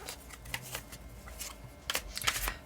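A deck of cards is shuffled by hand in quick, soft riffling bursts and flicks, close and fairly quiet, with a louder flurry near the end.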